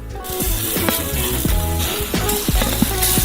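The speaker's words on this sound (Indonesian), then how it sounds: "Angkat irisan daging dengan spatula, lalu balikkan. Di sisi ini goreng 10 menit." Beef slices sizzle and fry in a hot pan for a burger build, a steady crackling hiss throughout with scattered pops and a few scrapes of a spatula as the meat is turned, close and fairly loud with no talk.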